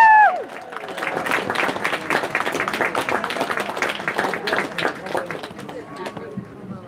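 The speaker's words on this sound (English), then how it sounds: "can we give our fighters another big cheer?" A crowd at a live fighting event in Scone claps and cheers for the fighters, with dense, steady applause and scattered shouts filling the whole stretch at close, lively volume.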